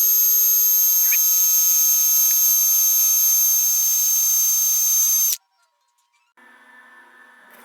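A power drill whirs loudly and steadily for about five seconds as it stirs old varnish that has sat on a shelf, then stops abruptly, followed by a quieter mechanical hum.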